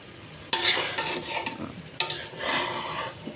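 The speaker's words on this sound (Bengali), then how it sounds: "এটাকে ভালো করে ভেজে নেব।" Rice and several kinds of lentils stir-fry in a pot for vegetable khichuri: two sharp scraping strokes of a spoon against the pan, each trailing into a loud, close sizzle, with no talking.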